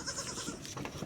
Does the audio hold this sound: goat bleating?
yes